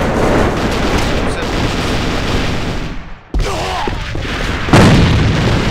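Grenade blast in the online shooter Alliance of Valiant Arms, with a loud boom and heavy rumbling gunfire filling the scene, a brief near-silent gap, then another sharp burst of battle noise.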